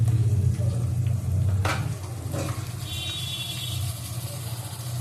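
Garlic paste dropping into hot oil in a pan for a chicken curry, a brief sizzling hiss over a loud low hum, with a sharp crackle and softer frying noise following.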